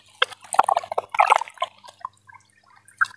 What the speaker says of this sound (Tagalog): Lagay nyo natin itong sabon.